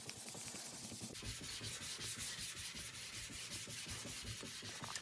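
Knife blade being sharpened on a 4000 grit whetstone, a close, quiet series of rhythmic rasping strokes repeating quickly back and forth.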